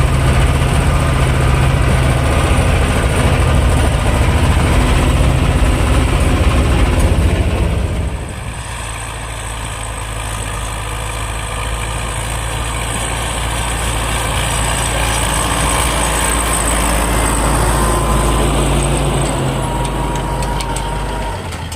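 YuMZ and T-25 tractor engines working while plowing a field, a loud continuous low engine drone that drops and eases after several seconds, then builds again, with no talking.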